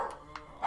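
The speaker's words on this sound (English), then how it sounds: "Quiet, dogs!" A few dogs bark in a Fallout 4 game scene, short sharp yaps near the start, middle and end over a low steady background hum.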